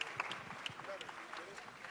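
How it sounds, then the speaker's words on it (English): Crowd applause for Conor McGregor and Floyd Mayweather at their event, a steady wash of clapping from a large audience with a voice talking over it. "Big round of applause for two classy, classy gentlemen."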